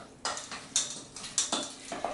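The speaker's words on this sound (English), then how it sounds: "give that a good stir, really break up those egg whites and mix them in so it's well combined" A spoon stirs egg whites into batter for an asparagus and Manchego cheese tart in a bowl, making four or five rhythmic scraping strokes with light clinks, close and fairly quiet.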